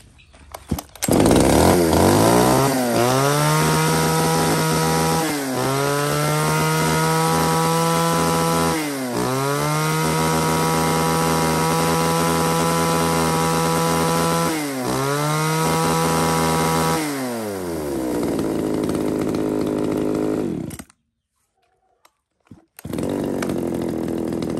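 A small mini chainsaw with a 30 cm bar, sold among used Japanese-market saws, revs loud and close in repeated long bursts that dip briefly between them, then cuts off into silence before restarting.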